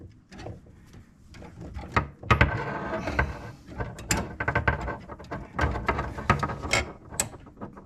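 A series of small plastic clicks and rattles as a kitchen faucet hose is fitted into place, close up, with one sharper snap partway through.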